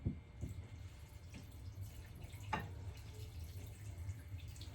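Tap water running and dripping into a container to soak sea moss, a steady low splashing wash with a few sharper drip impacts, close by and with no talk.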